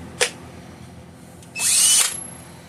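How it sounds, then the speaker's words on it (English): A cordless power drill spins in a short, loud whir of about half a second, preceded by a brief click and a quick trigger blip. "screw gun, my power drill."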